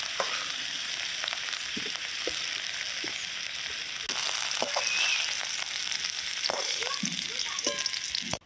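Potato and young jackfruit pieces deep-frying in hot oil, a continuous close sizzle with occasional clinks and scrapes as pieces are lifted out, no talk.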